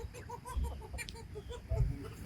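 Chickens and a rooster cluck in a busy coop, with soft repeated calls and a couple of louder low bursts nearby.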